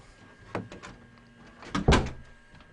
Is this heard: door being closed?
yes